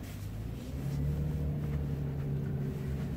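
A Kia K9 3.8 rear-wheel-drive luxury sedan driving, heard from inside the cabin as a steady low engine hum and road rumble that swells slightly after the first second.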